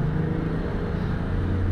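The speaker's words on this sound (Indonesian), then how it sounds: "Jadi agak bercampur sama suara mobil sama suara motor di luar." Steady low rumble of road traffic, cars and motorbikes passing nearby, continuous and fairly loud with an engine hum throughout.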